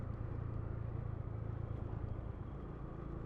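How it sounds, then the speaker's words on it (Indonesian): Motorcycle engine heard while riding, a continuous loud low droning rumble, steady and close, with no other sounds. "Suara motor saya itu terdengar keras sekali ya."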